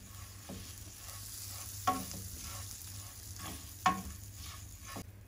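Vermicelli roasting in a pan over a low flame gives a soft steady sizzle, with a few sharp stirring scrapes and clicks at intervals, close and without voices.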